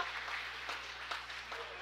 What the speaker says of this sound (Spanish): Si pueden pararse para que les den un aplauso.